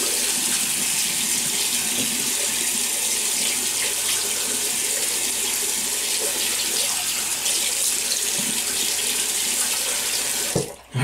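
A tap runs steadily and close by as water wets a shaving brush and a face with several days of stubble, a broad constant hiss that ends abruptly as the flow is cut.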